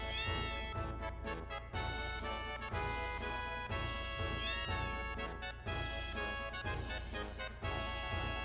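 Cats in the Final Fantasy VII video game meow repeatedly over a steady, loud backdrop of game music, the high cries rising and falling at a few points through the passage.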